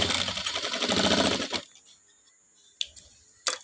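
A sewing machine with a normal presser foot runs a fast, rhythmic double stitch along fabric for about a second and a half, then stops, followed by a couple of sharp clicks.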